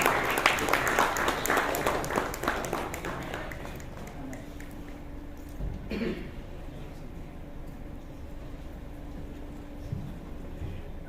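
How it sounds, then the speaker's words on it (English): An audience claps for a speaker being welcomed on stage at a sustainable energy forum. The applause is strongest at first, then thins to scattered claps and a low crowd murmur. "Can we have a big round of applause for him?"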